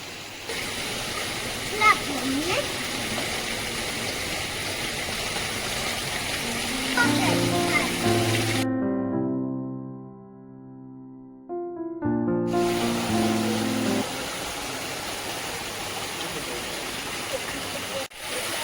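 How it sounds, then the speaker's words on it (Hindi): An artificial waterfall in a botanical garden in Poznań pours with a steady broadband rush, close and constant, broken by a short quiet gap. Someone talks over it in places. "और ये है प्यारा सा आर्टिफिशियल एक वाटरफॉल"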